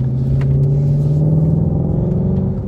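Shelby GT350 engine accelerating from inside the car, a loud, steady low rumble with a sustained droning tone that climbs slightly, alone with no talk.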